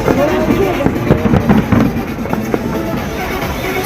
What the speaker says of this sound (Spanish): Ahí podemos ver los fuegos artificiales.